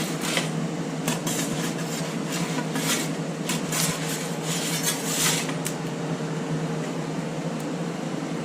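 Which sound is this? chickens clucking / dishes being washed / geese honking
dishes being washed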